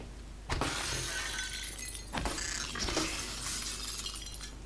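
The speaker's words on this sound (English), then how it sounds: "Broken glass." Glass shatters in a video game, several loud breaking crashes near 0.5, 2.2 and 3 seconds, each followed by tinkling shards over a steady background hum.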